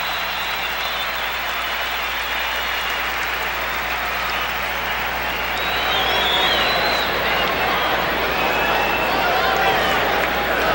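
A basketball arena crowd in a 1992 Bulls vs Knicks NBA game reacts after a player fouls out, a loud, sustained roar of cheering and applause that swells further about halfway through.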